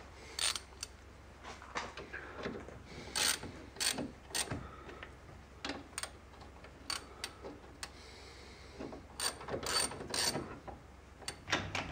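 A caliper pin bolt being tightened with a power gun gives a rapid mechanical ratcheting whir in repeated close bursts, separated by short pauses and light metallic clicks.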